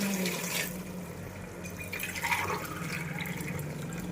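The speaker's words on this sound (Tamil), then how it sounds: "3 கப்பு தண்ணி ஊற்றினேன்" Water is poured into a cooking pot for chicken biryani, a steady splashing trickle running throughout, close and moderately loud.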